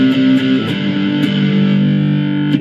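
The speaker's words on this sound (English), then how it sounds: "there's a little bit more of the overdrive distortion on there" Overdriven electric guitar through a Blackstar ID Core V3 amp's crunch channel, gritty crunch tone, chords ringing and sustaining with a few picked accents, loud and close.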